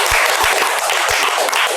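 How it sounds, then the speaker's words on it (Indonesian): A short burst of applause from a small group at a car community talk show, dense clapping with a few louder close claps, steady throughout. "Kita tepuk tangan dulu buat Respas."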